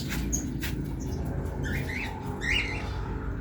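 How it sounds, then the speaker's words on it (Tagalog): African lovebirds kept as breeders chirp in short, bright bursts over a steady low hum, with a few calls clustered near the middle and end. "Unahin natin yung ditong mga breeders natin, African lovebirds."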